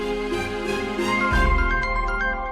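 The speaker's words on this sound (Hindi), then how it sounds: "अरे नन्ही बिटिया का फोन आ रहा है, उठा लो" A phone rings in a Hindi TV drama scene, a steady electronic tone pattern over a music bed with a low thump partway through, no talk.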